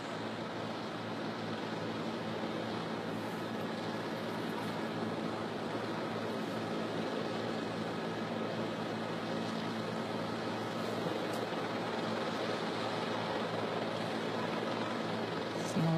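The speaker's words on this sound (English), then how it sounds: "here it comes in now, this JetBlue Flight 292 with that front nose gear pointed sideways" JetBlue Flight 292, an airliner, landing with its front nose gear stuck pointing sideways, giving a steady broadband roar with hiss and rumble that stays loud and even throughout, no voices.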